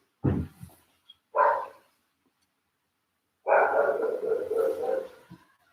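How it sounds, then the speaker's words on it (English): A dog barks twice in short sharp bursts, then after a pause gives a longer, drawn-out bark or howl, nearby and fairly clear. "Why is that dog barking?"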